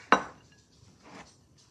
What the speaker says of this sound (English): So I am going to take the sausage, just dump it in there.